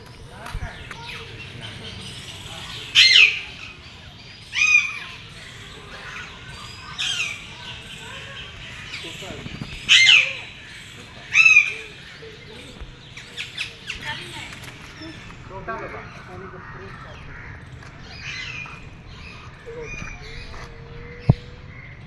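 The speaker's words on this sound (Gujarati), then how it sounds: "પોપટ જોતા આવીએ" Parrots at the Sakkarbaug zoo in Junagadh let out a few sharp, scattered squawks over a murmur of background chatter and movement.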